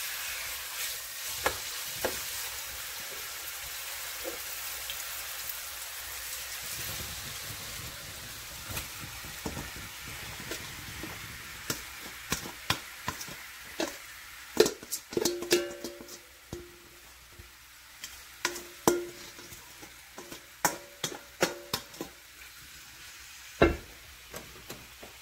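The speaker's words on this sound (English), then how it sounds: "Guys, I'm gonna put the meat into the skillet now." Pork for Jamaican brown stew cooks in a skillet with a quiet, steady sizzle, broken by scattered sharp clicks and scrapes of utensils against the pan that grow busier over time.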